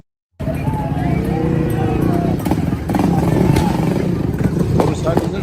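Motorcycles move through a city street during a riot in Los Angeles, their engines a steady, dense rumble with rising revs and clatter, heard from nearby as voices talk over the noise.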